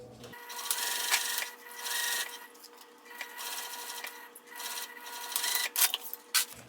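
A sewing machine top stitches fabric for a community stitching project, running in steady bursts of motor whir and needle clatter with brief pauses, close and clear with no talk.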